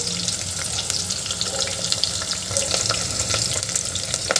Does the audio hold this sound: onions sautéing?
yes